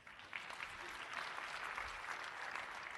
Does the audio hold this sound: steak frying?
no